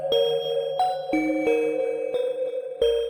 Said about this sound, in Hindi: क्या तुम सुन रही हो? नौकरों वाली घंटियां फिर बज रही हैं